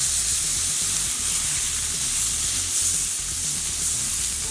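Steaks that have just been flipped in a pan give off a steady, loud, close sizzle with no break and no voices.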